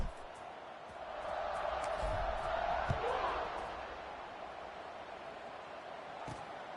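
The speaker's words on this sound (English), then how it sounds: "this crowd now ready to get behind them." Stadium crowd noise in College Football 26 at a kickoff, a broad sustained roar that swells over the first few seconds, holds steady, then eases slightly, with faint cheering mixed in.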